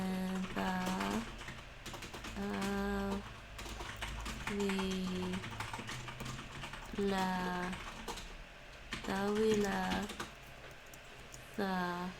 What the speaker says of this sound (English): Back to my keyboard.